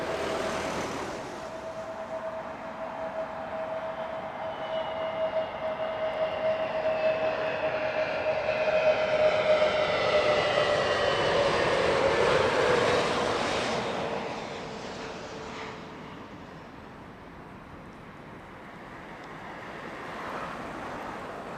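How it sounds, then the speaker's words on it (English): A British Airways Airbus neo jet in Better World livery passes at Heathrow Airport. Its engine roar with a whining tone swells steadily to a broad peak, then fades and lingers at a distance, with no voices. "Loving that Better World livery on the British Airways Airbus Neo"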